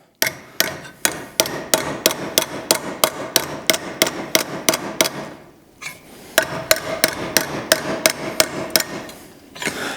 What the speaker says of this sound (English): So same thing, I'm just going to work it with the hammer.